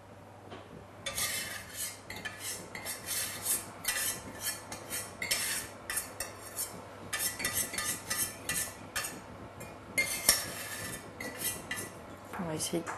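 A utensil scrapes melted chocolate from a saucepan into fondant batter, giving repeated close scraping and clinking strokes against the metal pan in an irregular rhythm, with a voice speaking quietly in the background.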